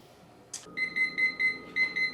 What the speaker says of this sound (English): so our timer has just went off